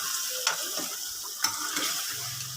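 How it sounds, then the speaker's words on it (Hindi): Mutton stir-fried (bhunai) in a pot with a little water makes a soft, steady sizzle, punctuated by a couple of sharp scraping knocks from the stirring spoon. "अब इसी पानी में हमने इसकी अच्छी तरीके से भुनाई करनी है।"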